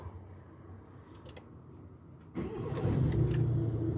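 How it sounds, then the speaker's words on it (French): A Renault Master 2.3 dCi diesel van engine cranks and catches partway through, then settles into a steady, loud rumbling idle close by. "Là, j'ai démarré le véhicule."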